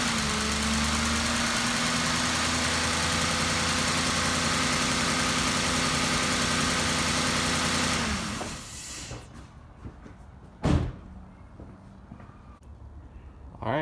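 Ford 5.4 V8 engine running at a steady rumbling idle, loud and close, then shutting off abruptly, leaving near quiet broken by a sharp knock and a clunk.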